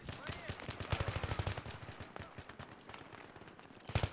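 Gunfire in the military shooter Global Conflict, rapid bursts of shots crackling along a road, loudest around the middle and with a sharp pair near the end, with some voices in the background.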